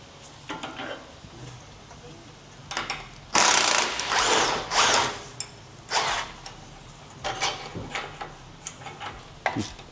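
Ratchet loosening a shock absorber bolt on a 2026 BMW G87 M2, short bursts of close clicking and metallic rasping in uneven spurts over a quiet garage background.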